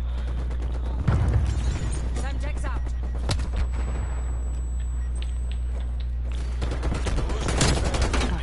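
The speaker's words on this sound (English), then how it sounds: "Flashbang out." Flashbang grenades and heavy gunfire in a Call of Duty Cold War match, with loud bursts and booms over a constant low game rumble while a voice talks at the start and end.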